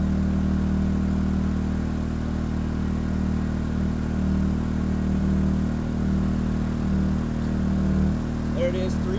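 A Harbor Freight Predator 2000 inverter generator engine runs with a steady, low, droning hum that stays even and close throughout, with faint clatter on top.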